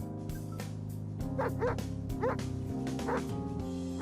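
A few short dog barks and yips from a dog in a Soviet tank video game, over a steady droning music background, spaced irregularly across the few seconds.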